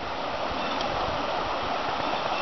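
Steady, even rush of a creek flowing beneath a small footbridge on a forest backcountry trail, an unbroken mid-level babble with no voices.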